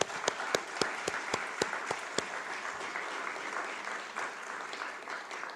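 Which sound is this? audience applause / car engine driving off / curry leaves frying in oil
audience applause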